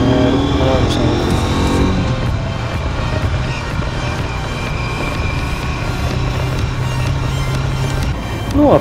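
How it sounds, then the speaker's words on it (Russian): Night city traffic jam on the Left Bank, heard from a motorcycle riding through it: a steady, loud wash of engine drone and road rumble, with nearby vehicles idling and moving throughout. "на левобережке у нас все равно даже в это время пробка"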